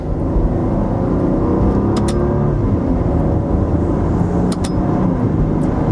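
A 2017 Maserati Levante's engine drones steadily and loud from inside the cabin, a continuous low hum with brief faint whirs around the paddle-shifted gear changes and no talking.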